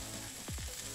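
Preserved salted vegetable is being lightly sautéed in a pan, producing a brief, faint sizzle under a steady background hiss.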